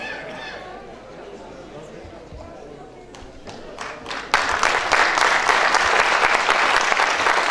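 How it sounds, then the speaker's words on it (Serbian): At a village film premiere in Krupanj, the audience breaks into loud applause for the cast of the film Kosidba. Murmuring and talk come first, then sustained, dense clapping swells in and carries on to the end. "a mi ćemo ih pozdraviti jednim velikim aplauzom"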